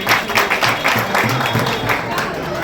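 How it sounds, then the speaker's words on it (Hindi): A crowd applauding for a child at a Dr. B. R. Ambedkar Jayanti gathering, steady dense clapping throughout, moderately loud with a voice speaking over it. "बहुत जोरदार तालियां हैं बच्चे के लिए।"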